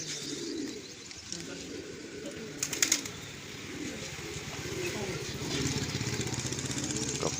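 Pigeons cooing nearby in a village, eating and drinking water, in soft, repeated calls over steady outdoor ambience and a low engine drone.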